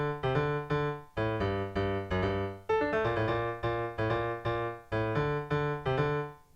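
A funky bass MIDI line played on a piano sound: short, punchy repeated notes in a syncopated rhythm with quick octave-style jumps, clear and alone with no voices.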